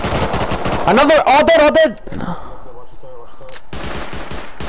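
Rapid bursts of automatic gunfire crackle loudly in a horror shooter video game, then break off into a quieter stretch before more firing resumes, with excited voices talking over the shooting.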